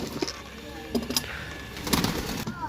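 Pigeons at a Pakistani bird market coo softly in short, scattered calls, with a faint steady hum underneath.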